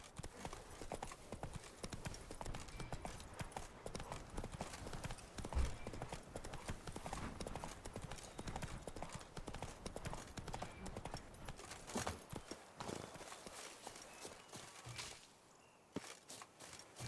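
In The Witcher 3: Blood and Wine, the horse Roach gallops in a rapid, continuous clip-clop of hooves, steady for most of the run before easing near the end, with faint game ambience behind.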